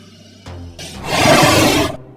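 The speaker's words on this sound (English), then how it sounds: "And now let's hear some of the roars." A creature in the video game Creatures of Sonaria lets out a loud, rough roar that swells and holds for about a second before cutting off, preceded by a couple of brief lower growls.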